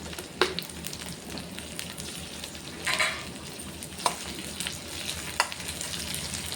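Curry leaves frying in a pan for a tindora curry, a continuous close sizzle broken by a few sharp pops and spatters.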